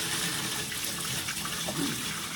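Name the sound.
room temperature water poured from a bowl into a fish tank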